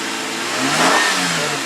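Steady idle of a Nissan Quest minivan engine, close and fairly loud, with a slight swell in the middle and a low continuous hum throughout.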